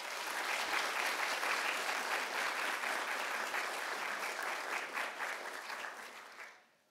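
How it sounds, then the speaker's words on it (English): Audience applause at a government meeting honouring recognition in governmental accounting and financial reporting, a sustained dense roll of many people clapping for about six seconds before it fades out quickly. "Can you give them a round of applause?"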